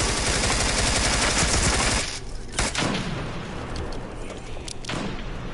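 A dense, loud burst of video game gunfire that cuts off abruptly partway through, followed by a few sharp isolated shots and thumps against quieter background noise.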